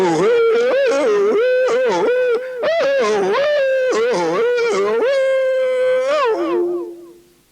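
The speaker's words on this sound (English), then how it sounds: "Now that's a musical yodel" Musical yodel hollering from a hollering contest, a single voice alone and loud, sliding and breaking between chest and falsetto in long wavering phrases for several seconds before fading out.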